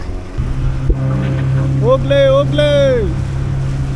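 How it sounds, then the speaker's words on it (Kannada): A motorboat engine on the Kaveri river near the Dubare elephant camp gives a steady, close low drone while a person calls out briefly and another voice gives a drawn-out exclamation over it. "ಓಕೆ, ನಮ್ಮ ಬೋಟ್ ಬಂತು"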